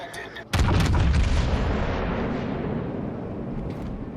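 A battleship broadside from the Musashi in a naval combat game: one sudden, loud, deep boom that rolls out into a long, fading rumble.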